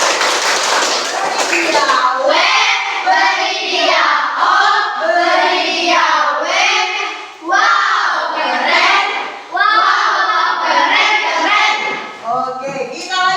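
Children in a classroom clap their hands together in a loud, sustained burst that lasts throughout, mixed with excited shouting and chattering young voices.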